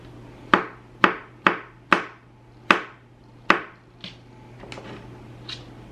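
A fillet knife chopping food on a cutting board in a home kitchen, six sharp, evenly spaced chops followed by a few softer taps, close and clear with a low steady hum behind.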